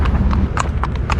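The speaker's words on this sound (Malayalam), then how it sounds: "പ്രഭാതങ്ങളിൽ കടൽ തീരത്തു കൂടിയുള്ള കുതിര സവാരി" Arabian horse hooves clip-clopping along the shore on a morning beach ride: a loose rhythm of about five sharp, close hoofbeats over a steady low rumble of surf and wind, with no talk.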